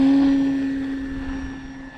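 An E-flite T-28 radio-controlled airplane takes off into the wind, its electric motor giving a steady high whine that slowly fades as it climbs away from a nearby start.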